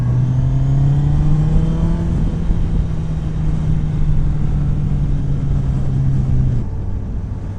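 A KTM Duke 125 motorcycle engine drones loudly and close, its pitch climbing steadily while under way, then dropping abruptly near the end as a gear changes, over constant wind rumble.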